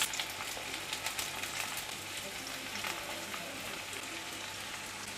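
Chopped onion and coconut fry in hot oil in a wok, a steady broadband sizzle with crackling spatters holding constant throughout, close and fairly loud with no voice over it.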